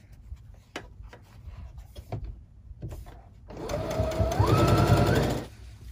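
A sewing machine chain pieces patchwork blocks on gridded interfacing with a steady, close whirring run of stitching, preceded by a few sharp handling clicks and taps.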